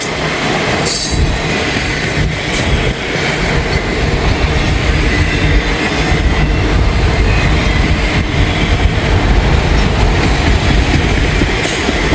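A BNSF freight train hauling auto rack cars rolls past close by, a loud continuous rumble with rhythmic wheel clatter and occasional squeals, no talk over it.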